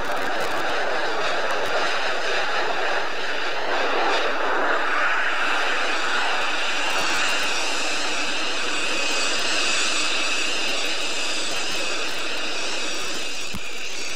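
A Saab Viggen jet lands at the Sion airshow in 1997 and reverses its engine thrust, producing a loud, sustained roaring whine that stays strong throughout, with no one speaking.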